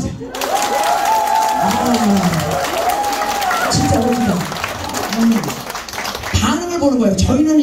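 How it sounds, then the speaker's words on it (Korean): At a Korean trot singer's fan event, a crowd applauds and cheers in a continuous loud roar. Someone talks over it throughout, his voice near and prominent above the clapping. "박수 한번 주세요."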